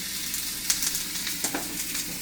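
Food for a McGriddle sizzles steadily on a grill pan, a close, even frying hiss with a few soft scraping movements.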